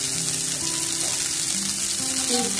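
Chopped spring onions and onion go into a pan of frying Bombay duck (lote fish) curry with garlic, giving a steady, loud hiss and sizzle of hot oil throughout, with faint tonal clinks of utensils.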